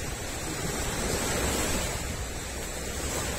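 Ocean waves washing onto a beach at Vlorë, Albania, a steady broad surf rush with gentle swells, heard alone without voices for a few seconds.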